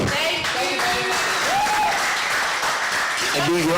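Audience applause at a real estate conference hall, a dense continuous wash of clapping with music or tonal sounds and voices layered over it throughout.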